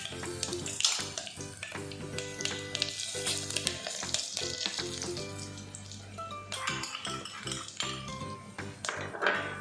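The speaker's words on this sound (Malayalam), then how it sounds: "തീ അല്പം കുറച്ച് വെച്ചിട്ട് മസാല പൊടി ഒന്ന് ചൂടാക്കിയെടുക്കാം." Masala powders (chili, meat masala, turmeric) heated with garlic, curry leaves and mustard seeds in a pan on low flame for samosa filling, giving a steady crackling sizzle with occasional utensil clinks under continuous background music.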